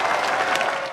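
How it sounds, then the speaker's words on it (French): Audience applause for a regional council president being introduced at a public gathering, a dense, steady wash of many hands clapping that fills the moment at full volume before easing slightly at the end. "Je vous demande d'applaudir le président du conseil régional,"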